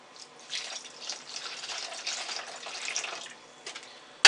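White vinegar, two cups' worth, poured into a container for a pike pickling brine gives a steady close splashing trickle lasting about three seconds before tapering off, followed by a brief sharp knock.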